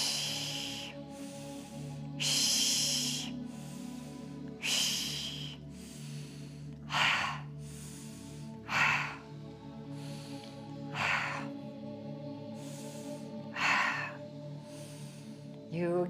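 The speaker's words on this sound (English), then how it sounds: "Exhale from your mouth." Slow, deep breaths with airy exhalations through the mouth repeat roughly every two seconds, close and soft, over a steady background hum of calm ambient music.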